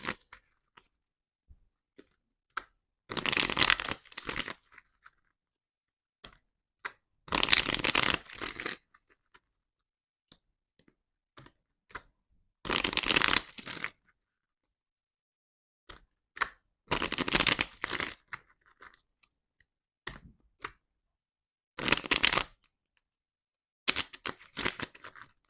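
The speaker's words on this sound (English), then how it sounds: "I'm now going to be shuffling these cards just to get clarifiers." Tarot cards being shuffled by hand in short bursts of crisp riffling and slapping, about six separate shuffles spaced apart with quiet gaps between, close and fairly soft.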